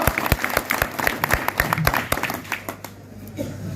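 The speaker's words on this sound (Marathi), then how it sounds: "जरा जोरदार टाळी वाजवा" Crowd applause at a political rally for a candidate, sharp uneven handclaps from many people that thin out and fade near the end.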